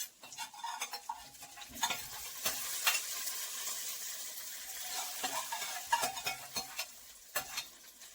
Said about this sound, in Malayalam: നമുക്കിനി ഇത് കറിയിലേക്ക് ഒഴിച്ചു കൊടുക്കാം.